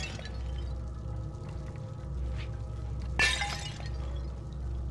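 Glass shatters in Little Nightmares as objects are thrown off a ledge: one sharp, bright crash of breaking glass partway through, over a steady low game ambience.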